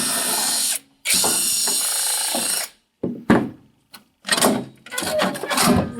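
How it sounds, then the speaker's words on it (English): A powered rivet tool sets a new coil spring onto a fire damper blade, with two long loud bursts of whirring drive followed by short metallic clicks, clunks and brief mechanical snaps, heard close up. "Rivet in place"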